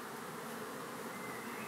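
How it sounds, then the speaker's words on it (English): Honeybees buzz steadily at beehives kept by farmers between a forest edge and orchards in Africa, forming a dense, continuous drone with no voices. "local farmers keep beehives."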